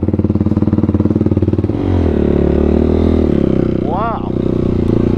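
A Yamaha YFZ450R quad fitted with a Vortex tune revs sharply off the throttle, a loud buzzy engine note rising and dropping in quick blips, close up with no talk.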